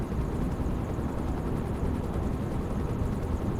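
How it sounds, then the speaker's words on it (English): A helicopter passes overhead out of sight, a steady dense rotor rumble and whoosh that stays at an even loudness throughout with no voices. "I can hear a chopper overhead, but I can't see it."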